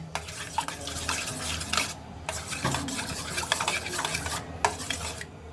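Ghee being mixed with kewra water and food colour in a pot, brisk close scraping and clinking of a spoon against metal with a soft wet churn, in bursts with short pauses, no talking.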